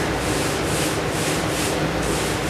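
Hand block sanding on a Camaro door's bodywork, a loud continuous abrasive rasp of paper on panel with steady back-and-forth strokes.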